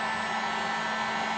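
A heat gun blows hot air onto a vent pipe inside a wall to soften it, a steady, even whooshing roar with a faint high whine, close and continuous with no pauses or voices.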